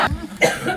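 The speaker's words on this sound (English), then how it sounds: "Just till I stop coughing" A single short, harsh cough from someone speaking to a rowdy crowd, close and loud, followed by a second softer throat-clearing burst.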